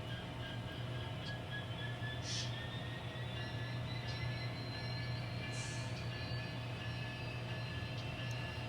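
N scale model train shoving back during a local switching run for empties on a layout, with a steady low rolling hum and faint high wheel squeals and clicks, continuous and fairly quiet throughout.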